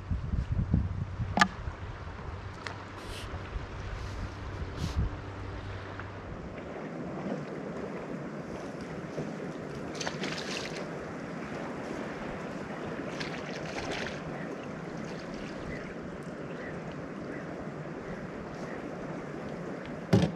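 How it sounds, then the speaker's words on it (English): A motorboat rides across open water toward an island, a steady engine drone under rushing water and wind noise, continuous and fairly near throughout. "After a two hour motorboat ride, I arrive to the island where I have my beautiful campsite."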